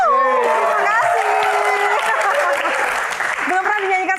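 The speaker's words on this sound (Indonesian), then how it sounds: "Tepuk tangan lebih meriah lagi teman-teman" Live Q&A audience clapping loudly and steadily after a singer's song, with a host's voice and sung or spoken tones running over the applause.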